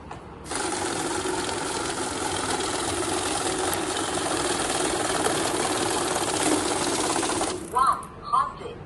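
A banknote counting machine runs a stack of currency notes through at speed, giving a steady, loud mechanical whir and rapid flutter for about seven seconds, then stopping with a couple of short clunks.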